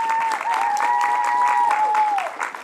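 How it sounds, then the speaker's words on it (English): Audience at a bowling show cheering and clapping in a steady wash of applause, with a whistle-like tone and some voices mixed in. "So let's get a little cheer going and pick it up in the second half."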